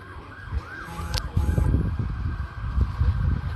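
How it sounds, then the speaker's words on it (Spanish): A police siren wails in the distance over steady street noise and traffic rumble in a Veracruz, Mexico neighborhood, with a brief rising tone sweep partway through. "Bueno, escuchamos acá sirenas."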